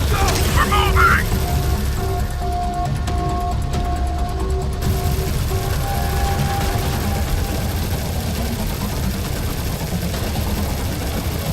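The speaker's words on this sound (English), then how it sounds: "Heavy fire! They're pulling back!" Heavy gunfire from the military shooter game Modern Combat 5: a dense, continuous crackle of shots and blasts at steady high loudness for the whole stretch, with voices mixed in.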